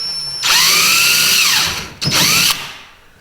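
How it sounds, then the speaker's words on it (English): A power drill bores holes into a plastic Native Watercraft Ultimate 145 Ultralight kayak, two loud close whining bursts, a long one followed by a shorter one, each winding down as the bit slows. "So I'm gonna put this right there and just drill some holes."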